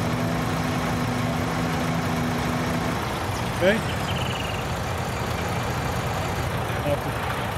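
A tractor engine drives a manure pump in a farming game mod, emptying slurry back into a tanker. It gives a steady, mid-loud idling drone throughout, with a brief spoken word and a couple of faint clicks.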